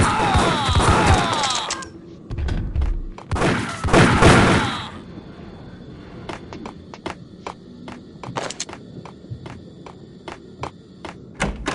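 Gunfire in the Max Payne video game: a dense burst of shots at the start, another heavy volley around four seconds, then a steady run of sharp single shots and clicks continuing to the end, loud and close with no talking.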